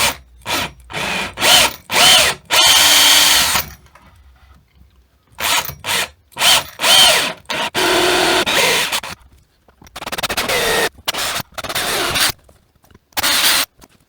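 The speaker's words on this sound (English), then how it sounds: "See if the drill will last another hole" A power drill whirs in repeated bursts while drilling a hole in an IKEA sofa frame to fix its springs, starting and stopping in short pulses with a few longer sustained runs, loud and close.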